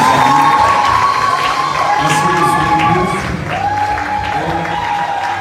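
A large crowd at an open-air Christian worship gathering claps and cheers loudly, with whoops and shouts rising over sustained applause, while a voice speaks briefly in French over the noise.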